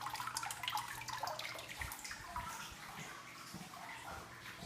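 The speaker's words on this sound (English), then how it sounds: "It's like a little waterfall." Small waterfall trickling inside Fairyland Caverns, a dark cave passage; steady splashing and running water fills the space, close and continuous with some drips, no talking.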